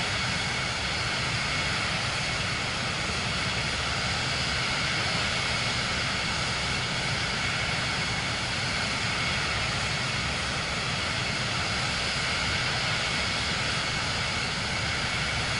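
Aircraft engine in Microsoft Flight Simulator 2024 on PS5 drones steadily throughout, a dense, even roar with no breaks or talk.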